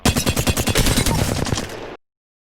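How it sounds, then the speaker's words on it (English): Automatic gunfire from the Apex Legends shooter: a rapid, evenly spaced burst of loud, close shots lasts about two seconds, then cuts off abruptly into silence. "I'm only firing up and ADSing and the strafing"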